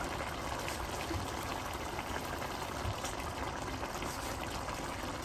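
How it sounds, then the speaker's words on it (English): Tomato sauce mixed with about half a cup of water pours out of a can into a pot, a steady close, soft liquid rush that continues without a break and with no talking. "get some of this sauce that's still in the can with about a 1/2 cup of water"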